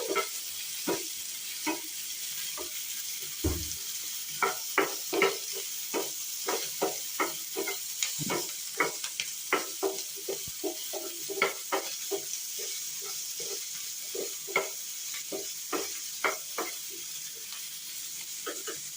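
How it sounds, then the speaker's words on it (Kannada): Chopped onions frying in a pan, a continuous soft sizzle with frequent quick scraping stirs and clinks of a spoon, close and without talk. "ಪೀಸ್ ಪೀಸಾಗಿ ಹೆಂಚ್ಕೊಂಡಿರೋ ಈರುಳ್ಳಿನ ಹಾಕಬೇಕು ಅದನ್ನ ಫ್ರೈ ಮಾಡ್ಕೋಬೇಕು"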